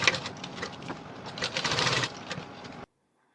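A sewing machine stitches a simple high neck blouse, a fast close whirring rattle that runs for nearly three seconds and then stops abruptly into silence.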